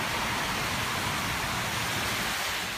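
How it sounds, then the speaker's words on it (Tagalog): Heavy rain pours down in a steady, dense hiss that fills the space, loud and unbroken throughout with no voices. "lakas ng ulan"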